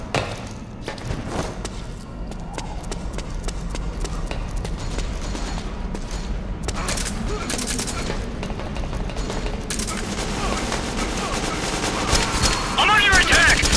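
Gunfire in Metal Gear Online team deathmatch: rapid bursts and scattered shots crackle over a continuous battle din, with thumps and a player's voice heard among the shooting.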